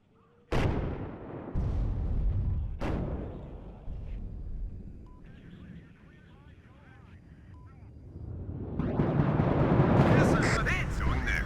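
Rocket artillery booming at night in the strategy game WARNO, with sharp launch blasts early on followed by a sustained roaring rumble that swells again toward the end, loud and close.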